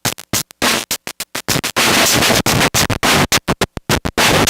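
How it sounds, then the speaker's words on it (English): Gritty, square-edged synth-like guitar tone through an STG Soundlabs .COM frequency divider with threshold pulse width modulation, sputtering on and off in rapid gated pulses, alternating with sustained buzzy stretches; loud, no speech. "let's apply some threshold, pulse width modulating to it."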